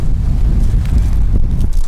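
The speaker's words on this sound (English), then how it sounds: "it's windy today" Steady, heavy wind buffets the microphone on Hayling Island, a continuous low rumbling roar with gusty fluctuations and no voices.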